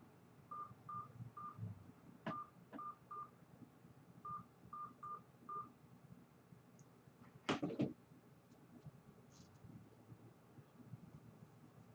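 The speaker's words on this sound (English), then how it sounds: "Please enter the phone number or we can call you back in case we get disconnected." Telephone keypad DTMF tones keying in a phone number for a customer service line, a rapid series of short beeps in two bursts, then a sharp louder clatter near the middle, over a quiet low hum with no voices.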